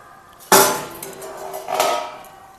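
Chicken curry being stirred in a pot gives two sharp metallic clangs, one loud and one softer, each ringing briefly before fading, with quiet gaps around them.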